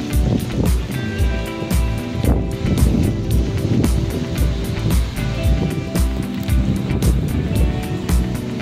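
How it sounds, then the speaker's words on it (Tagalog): Strong gusts from Typhoon Kristine roar continuously outdoors beside a path leading down to a house, loud buffeting wind noise hitting the microphone with no break. "bagyo ngayon guys. Ayan, lakas ng hangin"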